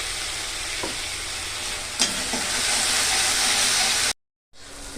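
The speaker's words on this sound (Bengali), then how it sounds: "কষাবো ভালো করে মশলাটা।" Spice paste being stir-fried in a pan, a loud continuous sizzle with a few scraping clicks of stirring, cutting out briefly to silence near the end before resuming.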